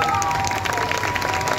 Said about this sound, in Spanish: por favor, fuerte el aplauso para ella.